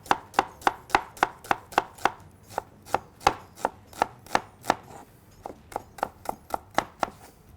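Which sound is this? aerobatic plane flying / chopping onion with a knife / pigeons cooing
chopping onion with a knife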